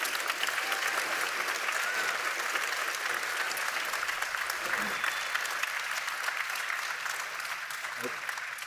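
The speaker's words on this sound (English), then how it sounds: "I'd like to invite you to applaud for our dear panelists." An audience at a youth forum session in a gym claps for a panel, sustained and steady at moderate loudness throughout, with faint voices underneath toward the end.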